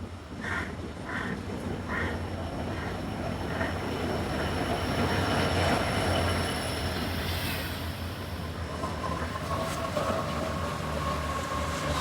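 A train to Kurunegala, Sri Lanka rumbles steadily along the rails from inside a carriage, with rhythmic clicks early on and faint wheel squeal over a continuous roar.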